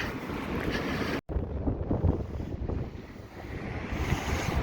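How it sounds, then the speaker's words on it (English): Wind gusts roar across the microphone outdoors in Nottingham, rising and easing, with a brief cut in the sound early on and no one speaking. "It's a bit windy."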